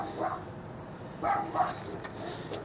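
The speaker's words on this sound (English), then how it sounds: "And you can hear our dogs barking." Household dogs bark in a few short, separate outbursts, heard at moderate distance in a quiet room, with no talking over them.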